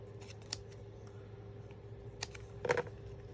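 Scissors cutting paper pieces for a handmade card, with a few quiet snips and a short cluster of louder cuts near the end over a steady low hum.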